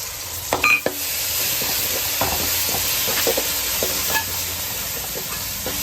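Tomato pieces and ginger garlic paste frying in a pan for a Telugu-style crab curry, a steady close sizzle with occasional stirring scrapes and clinks, no talking.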